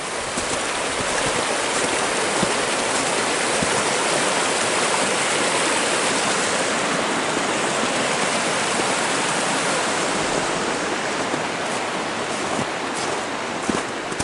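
Louise Creek pours out of Lake Louise in a broad, steady rush of water, loud and close, continuous with no pauses and no talking.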